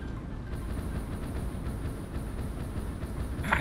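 A train runs through the Satisfactory video game world, a steady rolling rumble with faint rhythmic clatter and a short hiss near the end, with no speech over it.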